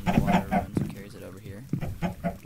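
Minecraft chickens cluck repeatedly in short, rhythmic bursts at a chicken farm in the game, close and fairly loud, while a person talks over them.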